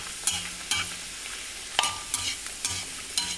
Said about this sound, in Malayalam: അതിലേക്ക് നമുക്ക് ഈ പൂരി അങ്ങോട്ട് ഇട്ട് കൊടുക്കാം